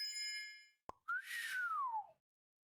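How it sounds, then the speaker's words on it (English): A game sound effect: a sharp click, then a bright whistle that rises briefly and glides slowly downward for about a second, heard alone after a short steady tone. "I guess it made a whistle noise"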